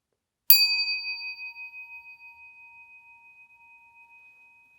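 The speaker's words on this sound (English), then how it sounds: "Let's listen to the stick type." A Jodo Shinshu stick-type handheld inkin bell, struck once by its metal striker on a string, rings out with a bright clear strike and a long, steadily fading shimmering tone, heard alone.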